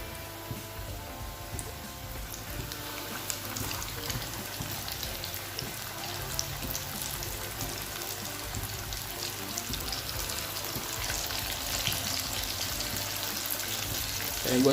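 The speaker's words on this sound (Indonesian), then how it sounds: "Yang pertama kita goreng adalah drumsticknya ya." Chicken drumsticks, flour-coated for KFC-style fried chicken, deep frying in hot oil in a home kitchen, giving a steady dense crackle and hiss that holds throughout and swells slightly toward the end.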